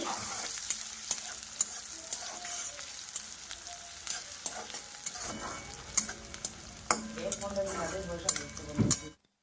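Chopped onion, cumin seeds, cardamom, cinnamon and cloves sizzle steadily in hot oil in a pan, with a spoon stirring and clinking against the metal, while someone talks over the cooking.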